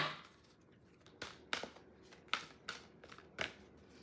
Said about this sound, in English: These are some big cards, so sometimes it's hard to shuffle.